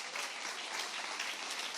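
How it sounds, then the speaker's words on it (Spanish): A church congregation gives dense, steady applause, a continuous bright wash of many hands clapping at even loudness throughout, with no speech on top. "Qué aplauso tan pobre"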